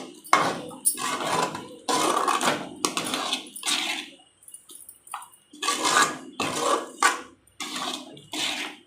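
Thick kozhukattai filling being stirred in a pan, with repeated bursts of scraping and wet slapping against the metal, a brief pause midway, then more vigorous stirring; no talking.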